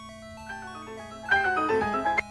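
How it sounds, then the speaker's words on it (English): A short chiming unlock sound effect from a Japanese learning session on the Seiken Densetsu game, with bright tonal layers swelling after a soft start, heard alone. "This is the sound of unlocking that sentence in your mind"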